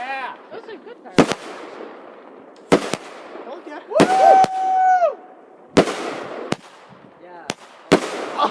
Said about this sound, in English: Those are good fireworks.